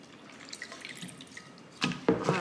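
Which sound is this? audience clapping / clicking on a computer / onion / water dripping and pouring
water dripping and pouring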